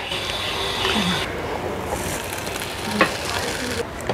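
Sliced bread laid in butter on a heated electric pan, giving a steady, close sizzle and hiss that carries on throughout.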